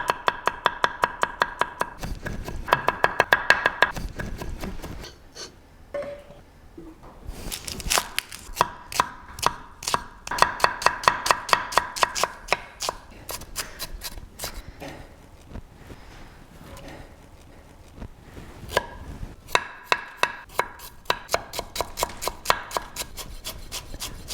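A knife chops finely through garlic, onion, ginger and chili on a board while preparing sticky braised 'pork' for steamed buns, with quick bursts of close, crisp strokes in rapid rhythmic runs separated by short pauses.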